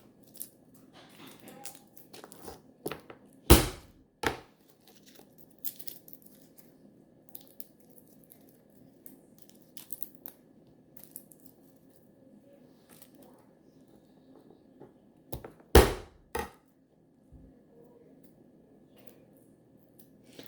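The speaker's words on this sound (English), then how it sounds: "put a big flat knife on top of it, pound it, and then the skin just comes right off" Garlic cloves crushed under a big flat knife pounded on a cutting board, two pairs of sharp, loud thumps spaced well apart over a quiet background with faint handling noises.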